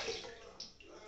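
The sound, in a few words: rinsing with hot water in a sink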